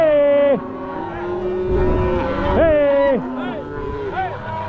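Cattle mooing on a ranch: loud, close, drawn-out moos, several of them overlapping and rising and falling in pitch, following one another over a few seconds.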